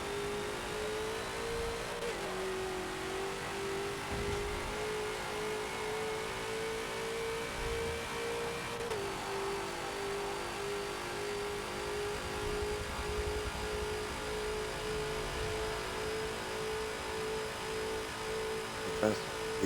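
TNT GT40 race car in Forza at Monza, engine holding a steady mid-pitched drone with small pitch shifts as it works through gears, continuous and close throughout, with a faint whir on top.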